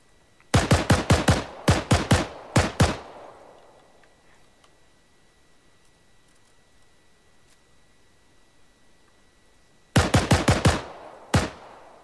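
Gewehr 43 semi-automatic rifle fired in the IFA3 WWII mod for a military video game, loaded with two 5-round clips of Kar 98 ammunition: two bursts of rapid, loud, sharp shots, about eight, then a quiet pause and five more.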